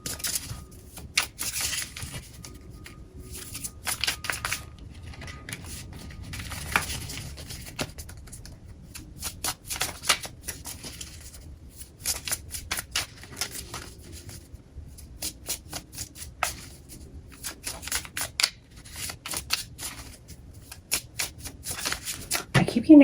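Rapid papery riffling of tarot cards being shuffled, coming in repeated bursts with brief pauses, close to the microphone.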